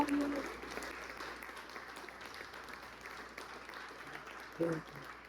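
A church congregation claps during a sermon, starting louder and then settling into softer, continuous applause from a distance, with voices over it and a brief louder sound near the end.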